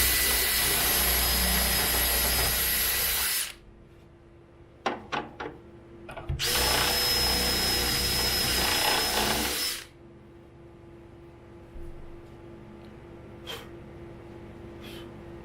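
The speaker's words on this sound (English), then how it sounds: "you start drilling it right in" A power drill fitted with a 6 mm bit bores into wood for a drawer build in two loud, close bursts of whirring, the second following a short pause filled with a few sharp taps and handling clicks.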